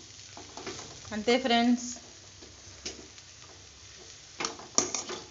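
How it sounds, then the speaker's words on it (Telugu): Lentil powder being stirred into a sizzling tempering of ponaganti leaves and toor dal in a pan, with a soft steady fry and scraping strokes, while someone talks over it. "ఒక మూడు స్పూన్లు ఈ పప్పల పొడి వేసుకొని ఇందులో బాగా కలయ తిప్పుకోవాలి."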